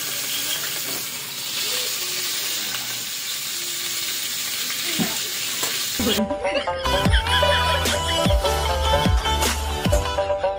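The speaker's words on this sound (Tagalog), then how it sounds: "Ito yung tilapia natin. So, i-fried muna natin." Tilapia pan frying in hot oil, a steady loud sizzle for the first half, then sharper crackling and clattering as the fish is moved in the pan, close up with no talk.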